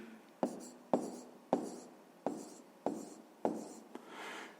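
Pen or chalk writing numerals by hand during a fifth-grade maths lesson: six or seven sharp taps and short scratching strokes in a steady rhythm, close and fairly quiet, ending in a longer softer rub, with no voices.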